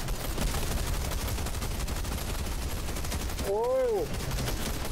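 Dense, steady gunfire from a weapon in a team shooter video game rattles throughout, loud and continuous, while a player exclaims briefly over it.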